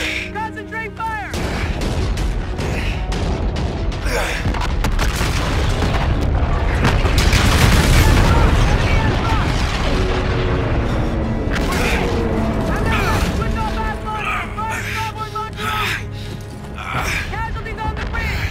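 Heavy naval gunfire and explosions rage through a Call of Duty Infinite Warfare battle, loud booming blasts and rapid cannon bursts layered over rumbling impacts, with shouted commands from crew voices throughout.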